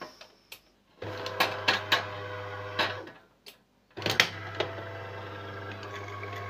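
De'Longhi ESAM04 coffee machine running and heating water, a low steady hum that starts and stops in two bursts, scattered with small sharp clicks and clacks, quiet and close with no talk.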